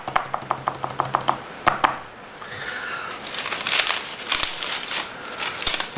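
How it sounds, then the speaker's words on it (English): Foil is peeled away from a roasted pork tenderloin wrapped in bacon, beginning with sharp close taps and clicks and then turning into a loud crinkling rustle of foil. "I've had the tenderloin in foil for 5 minutes just resting, and now we're going to unwrap it"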